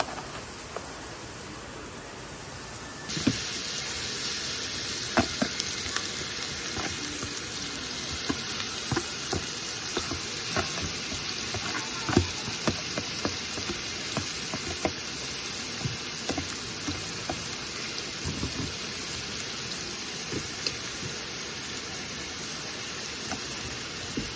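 Fries deep-frying in hot oil, a steady loud sizzle and crackle that runs continuously with scattered sharp pops throughout, no voices over it.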